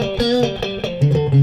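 Clean electric guitar notes picked one after another, bright and close, ringing plucks with slight sustain and no distortion.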